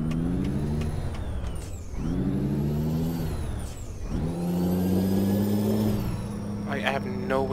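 Peterbilt 389 truck in Euro Truck Simulator, a deep steady diesel engine drone with loud air brake hisses and releases throughout, close and continuous, ending with a brief higher tonal chirp.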